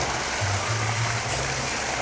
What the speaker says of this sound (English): So there's a little bit of a water feature here.